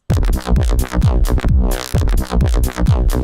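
A buzzy synth bass plays punchy repeated notes while a resonant band-pass filter sweeps up and down, brightening and darkening the tone; loud, close, no talking.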